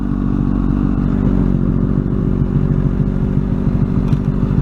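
A motorcycle engine runs steadily and loudly close by, with some mechanical clatter, as a novice rider holds the throttle open through gear shifts instead of easing off.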